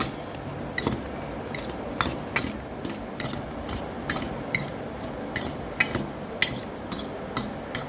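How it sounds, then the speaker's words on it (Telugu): A fork mixes chopped vegetables with chilli powder and cumin in a bowl, giving quick, regular clicking scrapes that repeat steadily at close range. "ఇప్పుడు ఈ చాప్ చేసుకున్న వెజ్జీస్, కారం, జీరా ఇవన్నీ ఫోక్తో ఇలా కలిపేసుకోవాలి"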